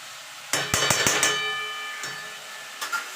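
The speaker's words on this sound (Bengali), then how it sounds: "আলু বেগুন আর বড়িটা সুন্দর সিদ্ধ হয়ে যাবে এবার ভালো করে মিশিয়ে নেব" Potato, eggplant and bori being stirred in a pan, heard as a quick run of sharp metallic clinks and taps from the spoon against the pan, followed by softer scraping and a few later clinks, close and clear.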